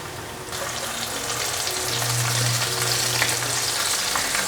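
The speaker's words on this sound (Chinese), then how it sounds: "油热了，放进来炸。" King oyster mushroom pieces deep-fry in plenty of hot oil, giving a steady, close bubbling sizzle that swells after the first half second and holds with no talk over it.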